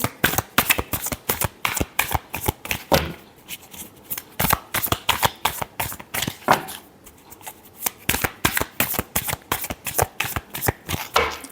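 Tarot cards are shuffled by hand in quick bursts of crisp riffling and flapping, close and fairly loud, with short pauses between rounds and no talking.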